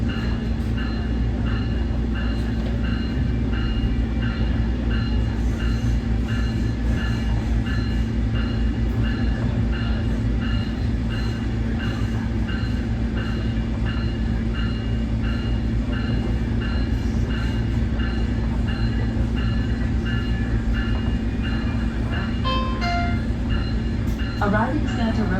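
A SMART Nippon Sharyo diesel multiple unit train pulling into Santa Rosa Downtown Station, with a loud continuous engine drone and rolling rumble from inside the car, plus faint clicks and a brief squeal near the end while an announcement plays over it.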